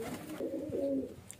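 Highflyer pigeons coo in a low, continuous warble from birds perched close by in a loft, with a brief faint chirp near the end.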